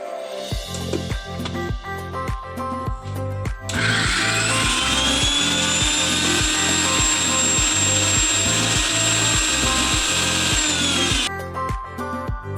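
An electric mixer grinder grinds salted raw mango chutney with chili powder. A run of rhythmic knocking pulses leads into a loud, high, steady motor whine that holds for several seconds before cutting off, close by with no talking.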